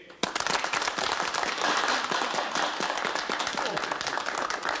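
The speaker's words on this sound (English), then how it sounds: "Applause for the Russian visitor." A group applauds a Russian visitor with dense, sharp clapping that stays loud and steady throughout, with voices mixed into the crowd.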